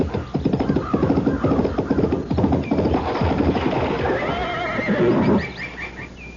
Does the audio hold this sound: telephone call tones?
no